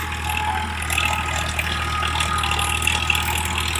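A Massey Ferguson 5245 tractor engine runs steadily nearby, a loud, even diesel drone with a low rumble that holds throughout without voices.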